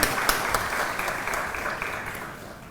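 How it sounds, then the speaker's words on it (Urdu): An audience at a grand ceremony for a social media workshop claps loudly and continuously, a dense wash of applause that slowly tapers near the end. "ان کے لیے پرزور تالیاں ہونی چاہیے"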